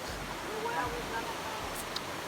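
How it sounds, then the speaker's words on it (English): Rushing water in a wooded area forms a steady, broad wash of noise throughout, with faint speech-like sounds mixed into the flow. "All this water, I doubt y'all could hear me."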